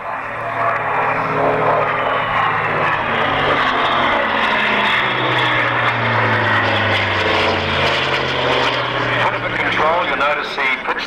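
A propeller aerobatic plane flying a slow roll at the Matamata Airfield air show, its engine drone loud and sustained with shifting pitch as it passes, under an announcer's commentary.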